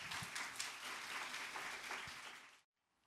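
Steady, warm applause from a church congregation welcoming the pastor to the front, holding evenly before cutting off abruptly into near silence.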